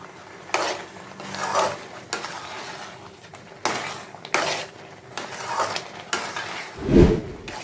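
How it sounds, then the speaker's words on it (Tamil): Mango pachadi with grated coconut and jaggery stirred nonstop in a pan, giving repeated scraping and clinking strokes at a steady rhythm, close and fairly loud, with no talking. "எப்படி நான் கை விடாமல் கிண்டுறேன் பாருங்கள்."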